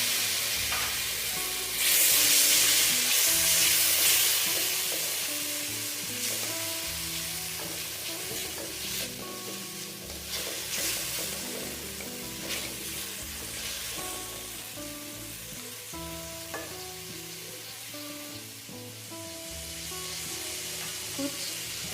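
Onion, tomato and other ingredients for beef pulao sizzle and fry in a pot, a continuous crackle broken by repeated scraping stirs and clinks of a spoon against the metal.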